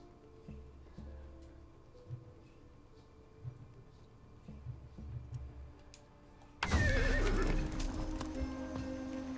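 In the video game Far Cry 6, a horse's loud whinny bursts in after several seconds of quiet shuffling and soft hoof sounds, followed by snorting and stamping close by.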